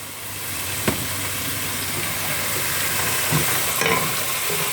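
Two dishes cooking side by side in pans on a home stove, a continuous moderate sizzle and bubbling with a few light clicks of utensils, no one talking.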